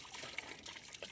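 Water pours and splashes steadily into a bucket during an outdoor farm shower, a continuous close splashing trickle with small bursts.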